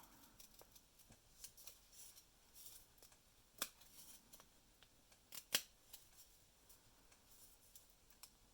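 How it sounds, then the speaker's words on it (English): Scissors snip through folded paper in a scattered series of small, crisp cuts, close and quiet, with a couple of sharper snaps standing out and no talking. "So then we'll just cut that out."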